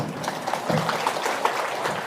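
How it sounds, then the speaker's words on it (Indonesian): Audience clapping at an Indonesian religious lecture: a short burst of steady, moderately loud applause from a crowd, with some faint voices mixed in. "Tepuk tangan dulu."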